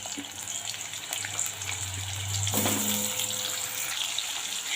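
Potatoes go into hot oil spiced with cardamom, cinnamon, cloves and whole cumin for a broccoli dish, breaking into a sudden close sizzle that keeps frying steadily.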